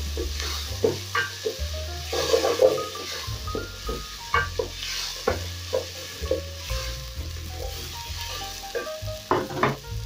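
Capsicum and garlic fry in a pan as the base for a potato and pumpkin curry, with a soft sizzle under repeated stirring and the scrape of a spoon against the pan in irregular bursts.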